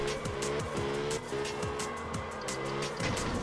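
A car drifting around a drift track in the game Absolute Drift: a steady, revving engine whine that rises and falls with gear changes, overlaid by continuous tire squeal and skidding, close and loud, no voices.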